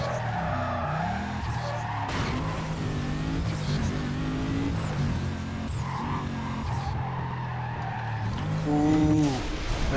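Mercedes racing in Need for Speed Carbon: a continuous loud engine roar with rising and falling revs through gear changes, punctuated by tire squeals and skids, with no talk.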